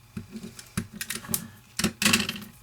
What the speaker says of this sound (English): I'm just going to trim it off like this